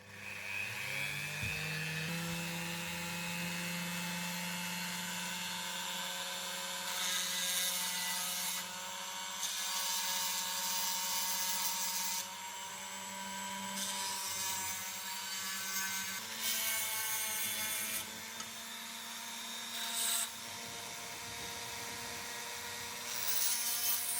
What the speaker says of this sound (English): let's get the Dremel going